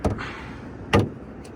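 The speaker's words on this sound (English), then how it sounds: "Let me pop the hood real quick." Hood release on a Chevy SS, a quick thunk and clatter at the start, then a sharper metallic pop and latch sound near one second, followed by a faint click.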